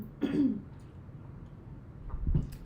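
A short throaty cough or throat clearing, close and fairly quiet, followed by a second rougher cough a couple of seconds later.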